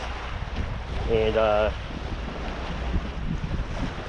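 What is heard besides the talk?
ocean waves on a beach with wind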